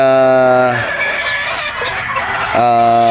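Roosters crow loudly and close at a game farm in Batangas, two long harmonic crows bracketing a stretch of scratchy clucking and farm noise, with a voice faintly present.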